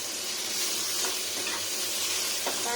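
Boiled potatoes fry and sizzle steadily in a hot pan, with a few soft scraping knocks as they are stirred, close and continuous throughout.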